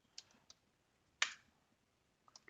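Code is typed on a computer keyboard, producing a few sparse, faint key clicks with one sharper keystroke in the middle, heard close and alone.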